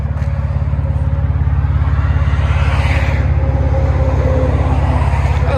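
A 2007 Nissan Altima with a 3.5L V6 and dual exhaust through DC Sport mufflers idles close by, a steady, loud, deep rumble with an even pulsing throb and no talking.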